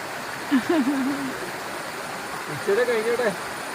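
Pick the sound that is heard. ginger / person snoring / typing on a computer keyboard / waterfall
waterfall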